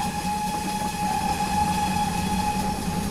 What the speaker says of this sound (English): I love the way the acoustic changes when you blow the whistle